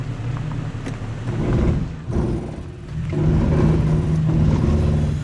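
A 2023 Toyota Tacoma TRD Pro crawling off-road in crawl control at very low speed, its engine and drivetrain giving a loud, steady low rumble with slow swells and whirring, heard from inside the cabin.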